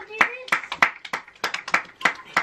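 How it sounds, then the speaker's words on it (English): Neighbours clap for key workers from a home during lockdown, sharp uneven hand claps from a few nearby people in quick bursts, with faint voices mixed in. "People are clapping."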